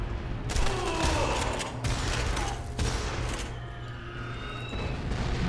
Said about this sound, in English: I love the sound of those bombs.